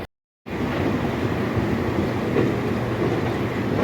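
Local train running between Howrah and Belur Math, a steady close rolling rumble with broadband noise after a brief silent start, with no voices.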